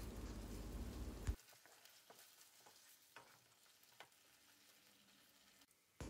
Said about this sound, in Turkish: Pirincimiz topak olana kadar kavuralım